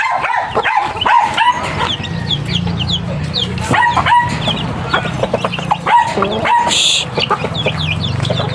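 Chickens cluck and chatter continuously nearby, several birds at once, with a dog barking at times and a brief crow-like call.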